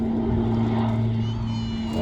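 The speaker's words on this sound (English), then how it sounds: "Aircraft is powered by two 700 shaft horsepower Garrett turboprops." An OV-10B Bronco, a large twin-engine aircraft with two 700 shp Garrett turboprops, passes at an air festival, its steady droning roar holding a strong low hum throughout with faint voices underneath.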